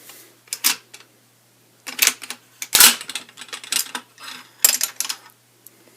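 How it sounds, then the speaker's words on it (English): Metal clicks and sliding clacks as the bolt is pulled from a DDI stamped-receiver AK47 rifle, several sharp mechanical snaps in irregular bursts, close and alone. "Go ahead and pull the bolt out."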